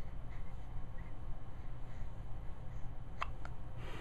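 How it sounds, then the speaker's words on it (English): A baby hiccups two or three times in quick succession, each one short and soft, heard close against a constant background hiss in a quiet room. "Baby has hiccups."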